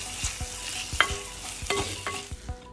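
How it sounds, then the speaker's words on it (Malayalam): Green chillies and curry leaves are stirred into onions frying in oil, giving a steady sizzle with repeated scraping strokes of a spoon in the pan, close and moderately loud. "അതിലേക്ക് നമ്മൾ പച്ചമുളകും കുറച്ച് കറി ലീവ്സും ചേർത്തൊന്ന് ഇളക്കുക"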